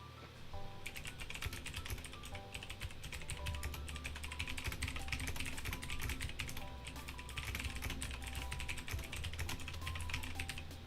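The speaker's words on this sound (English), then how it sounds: "Alright, sorry, typing. I'm done typing, I'm sorry." Continuous rapid typing on a computer keyboard, dense clattering keystrokes running steadily throughout at close range, with a low hum underneath and no speech.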